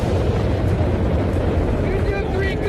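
Bomb blast in a war action movie: a dense, sustained low rumble of explosion and debris, loud and continuous throughout, with shouted voices over it.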